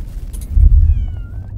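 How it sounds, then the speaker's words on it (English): Several cats meowing outdoors in a front yard, a brief high cry early followed by a louder, thicker burst of sound, with faint drawn-out tonal calls trailing off. "There's still cats in the front yard. All these cats!"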